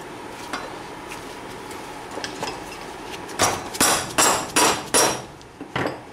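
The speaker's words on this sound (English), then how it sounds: "New bearing. Tap it in. You hear that solid hit?" Hammer blows tap a new wheel bearing into place on a Yamaha Banshee, several sharp metallic hits in a quick rhythm, loud and close, following quieter lighter taps.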